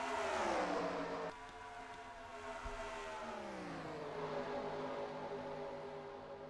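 Truck engine in a stock-car truck racing video game, a whirring, revving drone that shifts pitch as it accelerates, with a second engine joining and sliding downward midway, no voices.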